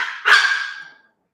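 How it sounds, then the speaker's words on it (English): A single dog bark rings out sharply, fairly close and loud, and fades over roughly a second into silence. "the dog's barking made sense and like helped"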